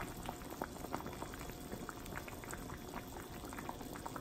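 Meatball soup boiling in a pot, a faint continuous bubbling and popping close by, steady and even throughout with no voices.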